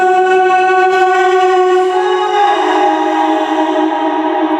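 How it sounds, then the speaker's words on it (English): Reversed vocal swelling in as the intro of the song, a steady sustained harmonic tone that holds loud and smooth for several seconds with no talking over it. "I used like a reversed vocal to fade that in and added that to the intro"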